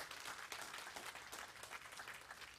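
A church congregation breaks into continuous, dense applause, a wash of many hands clapping at an even level from start to finish, quiet overall and with no voices heard.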